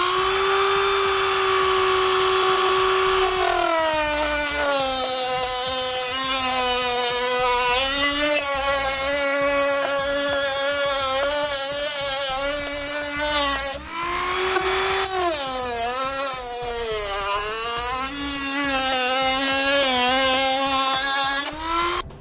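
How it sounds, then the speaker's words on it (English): A Dremel rotary tool with a cutting blade cuts through metal while a trailer hitch receiver is installed on a 2018 Kia Niro, giving a loud, sustained high-pitched whine that rises and dips with load, briefly pausing midway. "We'll take a Dremel tool with a cutting blade. We're going to cut it off where we had it marked."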